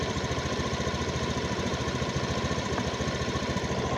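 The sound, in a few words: Honda Beat FI scooter engine running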